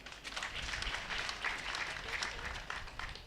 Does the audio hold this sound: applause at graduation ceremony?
yes